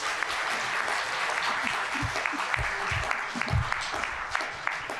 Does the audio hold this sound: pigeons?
no